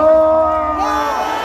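Crowd cheering and shouting at a street rally on a blocked-off Mapo-daero boulevard in Seoul, outside the Western District Court. A loud, sustained roar of many voices with a steady tone running through it, swelling again near the end.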